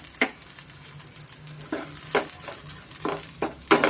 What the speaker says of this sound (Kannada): ನಾನು ಗ್ರೌಂಡ್ನಟ್ ಆಯಿಲು ಕಡಲೆಕಾಯಿ ಎಣ್ಣೆಯಲ್ಲಿ ನಾನು ಫ್ರೈ ಮಾಡಿ ಹಾಕ್ತಾಯಿದ್ದೀನಿ.